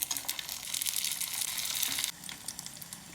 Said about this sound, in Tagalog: Prito lang natin to in low heat hanggang maging golden brown.